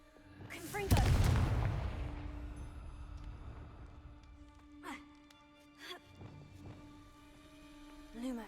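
A loud booming blast from a fire explosion spell in a wizarding video game, with a long decaying rumble and a few softer thuds and impacts following.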